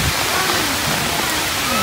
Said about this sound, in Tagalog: Sobrang lakas sa ulan.